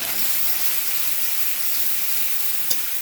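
Garlic and chili paste dropped into onions frying in hot oil, making a steady loud hiss and sizzle throughout, with one brief sharp tap near the end.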